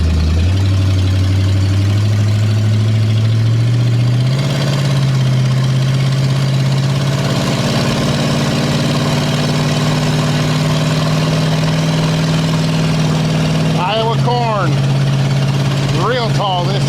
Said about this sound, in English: Pulling nice and even on all 8 cylinders. Still overfueling a little bit at idle